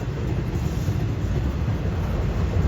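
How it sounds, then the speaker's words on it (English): Norfolk Southern intermodal freight trains racing past side by side, a loud, steady broadband rumble and roar of rolling cars filling the whole stretch without a break. "We have ourselves a train race here"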